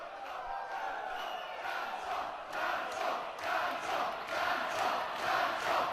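A wrestling crowd in Doncaster at a 1PW tag-team show chants for a dance-off, a steady roar of many voices that swells into louder rhythmic chanting toward the end.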